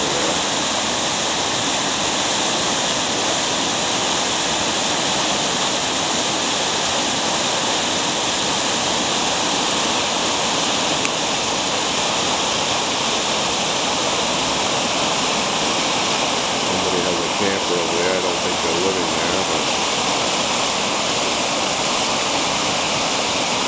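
Yarmouth Falls pours steadily in a constant broadband rush of falling water, loud and unbroken throughout with no voices.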